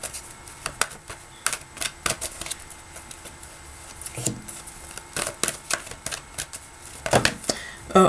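Tarot cards are shuffled by hand in a series of soft, irregular papery riffles and taps, close by and fairly quiet, with a few louder bursts toward the end.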